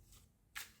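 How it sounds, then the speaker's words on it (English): A Sacred India Tarot deck is shuffled in one quick, crisp riffle that rises sharply after a near-silent pause, close and clear with no talk. "we're going to start with the Sacred India Tarot deck, and we're going to shuffle it for a little while"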